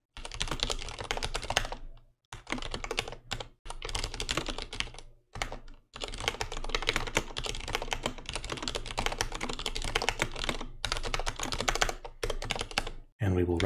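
Code is typed on a computer keyboard in dense, rapid bursts of close clicking keystrokes broken by short pauses, while a voice talks faintly underneath.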